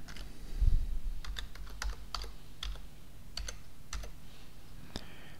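Keys clatter on a computer keyboard as a spreadsheet formula is entered, coming in irregular bursts of crisp clicks separated by short pauses, close and fairly clear over faint background hum.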